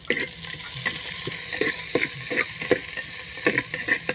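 Chopped onion and a paste of ground dried red chilies sizzle and fry in a pan for a country chicken rasam, with steady crackling and repeated scraping stir strokes close by, no talking.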